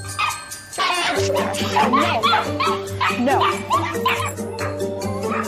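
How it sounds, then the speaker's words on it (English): Four hounds barking, yipping and whimpering together indoors, a near, constant chorus layered over a steady mains hum with people talking underneath. "4 howling hounds don't give them a moment's peace"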